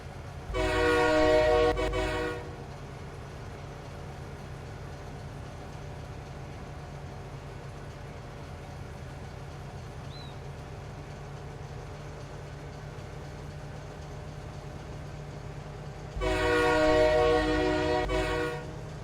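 A freight train hauling wood products in Farming Simulator 25 rumbles steadily along the rails with a constant low drone, its horn sounding loudly at the start and again near the end.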